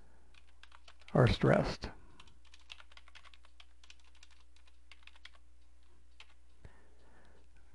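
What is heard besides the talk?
typing HTML text on a computer keyboard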